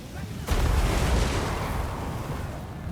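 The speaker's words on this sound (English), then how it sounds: "The dwarves are getting absolute eaten up by all of our artillery." Artillery fire in a Warhammer video game battle, with goblin war machines pounding dwarf troops: a sudden heavy boom followed by a sustained loud rumbling roar that slowly fades.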